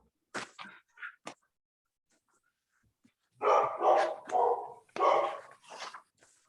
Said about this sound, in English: Someone has a big dog.